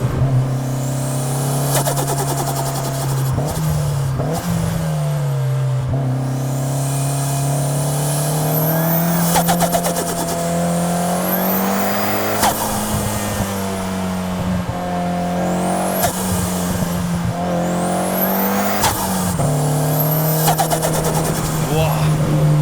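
A fully built Mitsubishi Lancer Evo V on a tight mountain touge road, its engine droning loud and close from inside the car, pitch rising and falling through corners with repeated revving bursts and gear changes.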